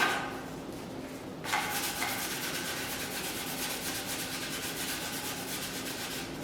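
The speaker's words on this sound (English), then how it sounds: "So a light sanding." Steady, close rhythmic rubbing of sandpaper lightly worked back and forth over a metal tray, continuing evenly throughout.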